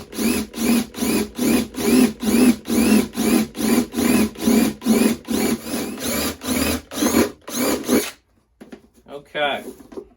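A drill bit bores a sound hole through the wooden top of a cigar box guitar in a fast run of regular, pulsing grinding bursts that stop abruptly near the end, followed by faint handling noise.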